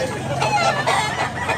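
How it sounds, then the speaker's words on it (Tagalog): A fighting cock, a big eight-month-old green-legged sweater-type rooster at a Cebu cockfighting venue, makes short clucking and crowing calls close by over background crowd murmur. "Malalaking manok mga idol."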